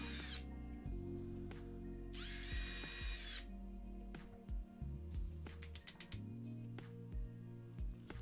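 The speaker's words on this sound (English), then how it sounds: "And then I drilled out the 3 pilot holes to attach it to the floorboards." Power drill boring pilot holes into a homemade carpet gripper for floorboards, several short whining bursts with pauses and a longer high-pitched run, close and loud, with no speech.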